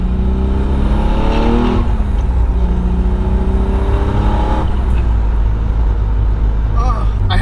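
A built twin-turbo Nissan 300ZX accelerates hard with a loud, close engine note that climbs through the revs, then drops at a gear shift and climbs again, with a brief pause in between.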